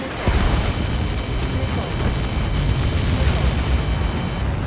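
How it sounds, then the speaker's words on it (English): A massive explosion in the Ace Combat 7 flight combat game, a sustained, heavy roaring blast with rumbling debris, loud and close, lasting several seconds. "How many got caught in that explosion?"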